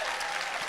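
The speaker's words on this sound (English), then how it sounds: "But please, a round of applause for Ella." A crowd at a fan convention panel in Chicago applauds Ella Purnell, a dense, continuous wash of clapping with no break across the brief moment.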